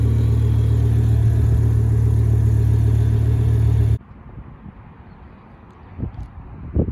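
A BMW M6 E63 with its V10 engine idling, a loud, steady low rumble close by that cuts off abruptly partway through, leaving quieter outdoor background with a few faint bumps.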